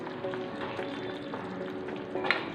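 A pot of prawn and brinjal kurma bubbles and simmers steadily up close, a soft continuous hiss of boiling liquid with occasional small pops.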